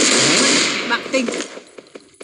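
An AF-12 shotgun fires in the video game CDHT: a loud, dense burst of blasts followed by a few fainter, spaced shots and clinks.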